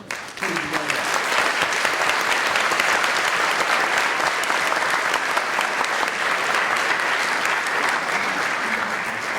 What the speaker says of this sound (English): we should all give a vote and a round of applause for the University of Chicago chapter